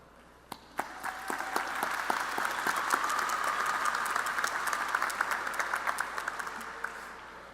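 Keystone College commencement crowd applauds, a few isolated claps swelling into sustained, full clapping from many hands, then tapering slightly toward the end.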